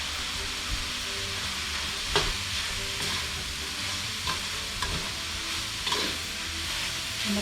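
Pork larb with fresh garden herbs being stirred and tossed in a pan, a steady close scraping and mixing with soft sizzle and occasional louder clacks of the utensil, no voices.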